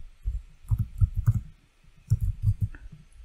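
Computer mouse clicks while setting up Active Directory on Windows Server 2022, several sharp clicks in two bursts of about three each, fairly close and alone with no talk.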